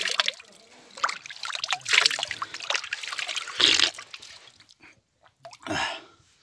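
Mountain water trickling and dripping in the Saghro range of the Anti-Atlas, faint and intermittent, with short splashy bursts and quiet gaps.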